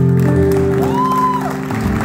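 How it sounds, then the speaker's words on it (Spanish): Applause from a crowd at a tribute event in a club with a live orchestra, a sustained, loud wash of clapping with tonal music or hum running through it. "pero William se merece un aplauso."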